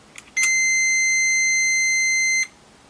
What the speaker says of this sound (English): see how the beep is on a diode test